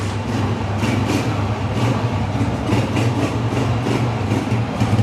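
A used Honda 125 motorcycle engine idles steadily with a low, continuous rumble, close by and unchanging for several seconds.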